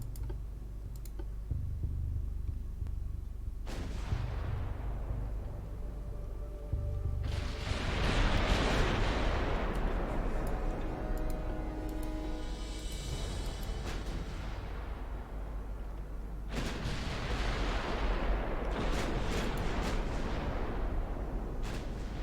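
Naval guns on warships in Ultimate Admiral Dreadnoughts fire several heavy, booming salvos that roll and rumble for seconds at a time, layered over a constant low battle drone.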